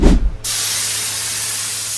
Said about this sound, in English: we got more paint mixed up and put on the last coat of base coat